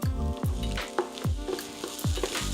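Beans and other ingredients are stirred in a hot pan as they sizzle for baked beans, with a steady frying hiss broken by repeated scraping strokes of the spoon roughly every half second, up close.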